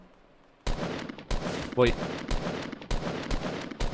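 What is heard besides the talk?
gunfire in the video game Fortnite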